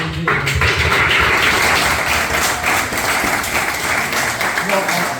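An audience in a church breaks into sustained applause, dense clapping carrying on steadily for several seconds with voices mixed in.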